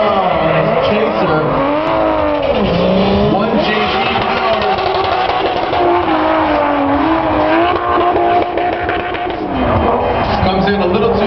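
A Toyota Chaser drift car with a 1JZ engine spins out, tires squealing in long wavering howls over a loud, revving engine, continuous and close with a commentator talking over it.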